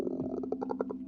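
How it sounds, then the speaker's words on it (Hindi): A hungry stomach gurgles in a short burst of bubbly, rising rumbles, close and fairly quiet, used as a sound effect with a steady low hum behind it. "कृतिका का पेट गुड़गुड़ाया।"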